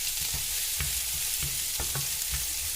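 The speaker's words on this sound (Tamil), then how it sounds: "பாருங்கள், இப்போ இந்த ஸ்டேஜில் நான் மிளகா போடுறேன். மிளகா வந்து நல்லா வதங்கணுங்க." Chillies fry in hot oil in a pan, a steady close sizzle broken by regular soft scrapes and knocks of stirring about every half second, with no talking.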